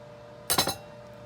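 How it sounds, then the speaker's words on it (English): An egg cracked one-handed against a hard edge, heard as a short, sharp cluster of two or three crisp clinking knocks in a quiet kitchen, close and brief. "trying to crack an egg with one hand while I videoed it"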